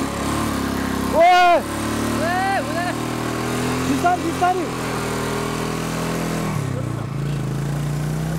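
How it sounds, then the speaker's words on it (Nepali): Motorcycle engine running steadily after starting on a snowy mountain road from Manang, a continuous low idle and putter with brief revs, while someone talks over it. "स्टार्ट भयो बाइक"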